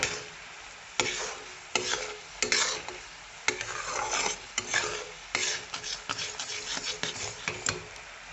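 Repeated scraping strokes of a spoon stirring boiling sugar syrup in a pan for sesame ladoo, rhythmic and close, over a soft bubbling hiss.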